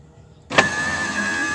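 The electric power window of a Toyota Corolla motor starts abruptly and runs with a steady whine as the glass lowers, close up with a small thunk at the start.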